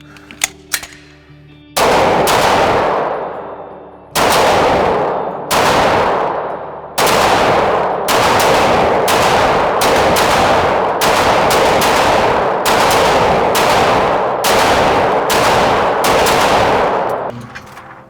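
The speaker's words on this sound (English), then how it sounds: "Just shoot whatever you want." Firearms are fired at targets on a shooting range in loud, close bursts of rapid gunfire. Several long strings of shots are broken by short pauses, and each burst rings out with a sharp crack.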